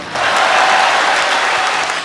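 An audience applauds at a Tamil speech event, a dense, steady wash of clapping that swells in quickly and holds loud for about two seconds before easing slightly.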